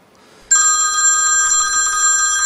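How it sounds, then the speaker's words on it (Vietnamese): A telephone bell rings loudly and continuously after a brief quiet moment, a bright electronic trill close by with no voices. "Xin lỗi, anh đi nghe điện thoại."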